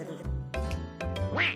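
A duck quacks in a few short, nasal calls close by, the last one rising in pitch.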